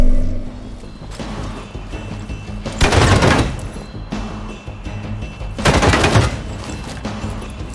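Gunfire in the Marvel's Midnight Suns video game, two loud close bursts of rapid shots a few seconds apart over a steady low game ambience.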